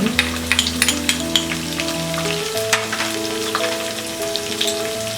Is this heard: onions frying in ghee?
yes